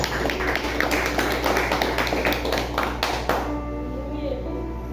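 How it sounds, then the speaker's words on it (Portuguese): A church congregation at a Portuguese-language worship service claps together in rapid rhythmic bursts for about three seconds. A voice carries over the clapping, then the hands stop and a lingering tonal hum remains. "Palmas para Jesus."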